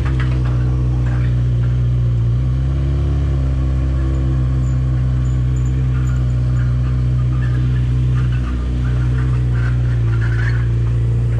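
A 2014 Honda CBR1000 motorcycle engine drones steadily and loud up close while riding, its pitch shifting slightly with throttle changes, no talking.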